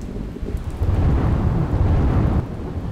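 Heavy downpour with rumbling thunder over villages in Gujarat's Kalyanpur area, a dense steady roar of rain carrying low booming rolls throughout, loud and close with no voices.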